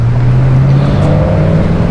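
A sports car with a Toomey exhaust idles and rumbles with a steady low exhaust drone throughout, loud and close, with no voices.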